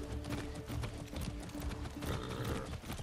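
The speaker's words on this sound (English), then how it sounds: "I don't know that this is necessarily cardio when you're riding a horse." A horse gallops in the video game Far Cry 6, its hooves clip-clopping in a quick, steady rhythm, close and continuous under game music and ambience.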